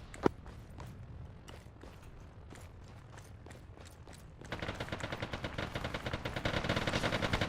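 Gunfire in a co-op military shooter mission on the desert town map Zargabad: a few scattered sharp shots at first, then from midway a dense, sustained burst of rapid automatic fire that grows louder toward the end.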